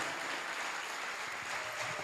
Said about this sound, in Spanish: Quiero que le dé un aplauso a esta palabra.